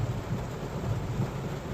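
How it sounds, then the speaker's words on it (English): Low thunder rumbles under steady pouring rain, a dense wash with rolling bass swells and no voices. "I still hear the thunder, and it's still pouring down rain"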